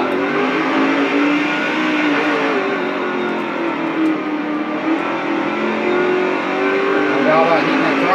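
A Craftsman Truck Series racing truck engine revs hard and holds high on throttle, a loud sustained roar with shifting pitch, while someone talks over it.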